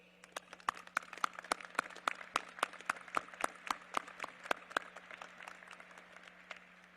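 Sparse, distinct handclaps from an audience at an Air Force Academy graduation ceremony, individual sharp claps in an uneven rhythm over a low steady hum, fading out after about five seconds.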